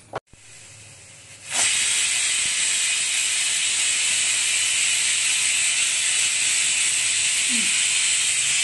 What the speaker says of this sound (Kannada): ಈಗ ಒಂದ್ ಸಿಟ್ಟಿ ಆಯ್ತು, ಈಗ ಒಂದ್ ಸಿಟ್ಟಿ ಆಗ್ಯದ, ಬಂದ್ ಮಾಡೋದು